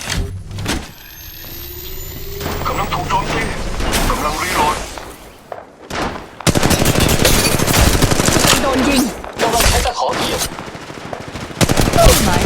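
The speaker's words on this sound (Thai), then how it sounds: "ศัตรูกำลังยิงใส่ฉัน มันยิง" Enemy gunfire in Apex Legends Mobile, loud automatic bursts and rapid shots over continuous game noise, with a brief lull before a heavy, sustained volley.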